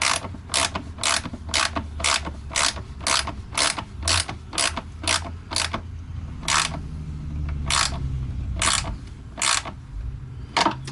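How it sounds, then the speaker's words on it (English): A hand ratchet tightens the nuts on an RV toilet base, making a series of quick, sharp metallic clicks in short bursts with brief pauses between strokes. It is close and clear, with no talking. "We're going to go ahead and just tighten these down until I get a good feel for the toilet base as far as it being tight and not moving around."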